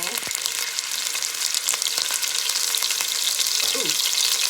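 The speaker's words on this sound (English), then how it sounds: "you hear that sizzle?" Loud, steady sizzling of food frying in a pan, a dense crackling hiss with occasional sharp pops throughout.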